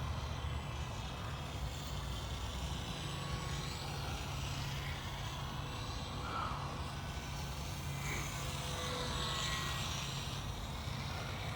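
An RC Helldiver model plane with a three-blade propeller flies some distance away, its faint, whining engine drone rising and falling as it passes over a steady background rush.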